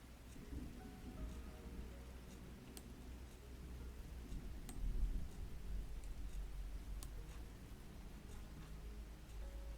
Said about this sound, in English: I like the rain sound better.